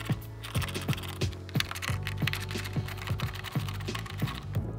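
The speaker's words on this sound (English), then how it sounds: "using a T25 Torx, we're gonna remove 3 bolts" A T25 Torx driver backs three bolts out of the headlight bracket on an 18-19 Ford F150. Short metallic clicks and ratcheting ticks repeat in a steady rhythm, close and fairly quiet.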